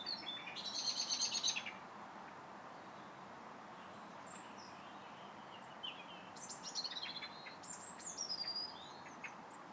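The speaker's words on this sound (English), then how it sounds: "That's why you can hear the birds." Songbirds chirp and trill in a garden on the edge of the Potteries in winter, a bright burst of song at the start and scattered calls later, moderately near over a quiet, soft background hiss.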